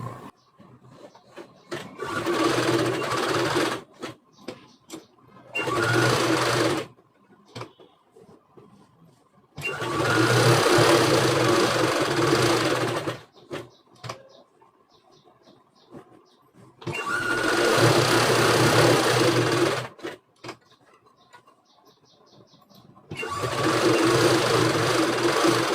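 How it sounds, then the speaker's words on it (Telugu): A sewing machine stitching around a cloth neckline in four long, loud bursts of rapid whirring, separated by quiet pauses filled with small clicks and handling noises. "ఇప్పుడు మనము ఒక 1/4 ఇంచ్ మందం తోటి నెక్ చుట్టూ కుట్టుకున్నాం."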